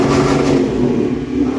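A carbureted Ford Mustang engine revving under more throttle, a close, steady rumbling drone with mechanical whir and slight clatter, heard alone.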